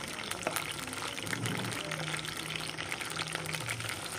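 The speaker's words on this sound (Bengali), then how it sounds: "তেল গরম হয়ে গেছে। আমি সব আম দিয়ে দেবো একটা একটা করে।" Battered mango pieces for crispy mango pakora sizzling in hot oil in a home kitchen pan: a continuous bubbling hiss with small crackles, fairly close and moderately quiet, holding steady throughout.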